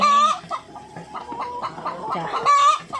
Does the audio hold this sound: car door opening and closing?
no